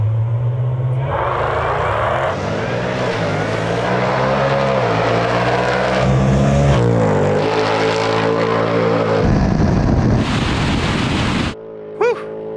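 A 700-horsepower supercharged 2024 Ford Mustang GT launches down a drag strip, its engine roaring loud and close as it climbs through several gear changes before the noise cuts off abruptly near the end.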